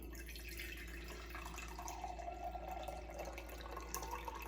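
Six ounces of coffee trickle into a cup, making a faint, steady liquid pour with soft dripping and no talk.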